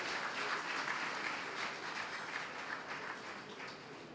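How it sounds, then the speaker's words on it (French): An audience at a formal evening event applauds warmly: dense, sustained clapping from many hands at an even level throughout, with no voices standing out. "que vous êtes gentil d'applaudir et accompagner"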